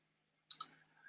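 A computer mouse gives one quick pair of faint clicks close by against a quiet background, with no talking.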